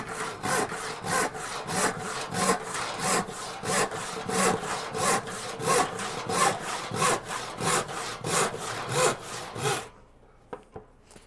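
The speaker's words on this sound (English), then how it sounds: "I'm just holding this down and cutting." A handsaw cutting a wooden board held down on a saw bench, loud close rhythmic rasping strokes, about two per second, stopping abruptly near the end, followed by a few faint knocks.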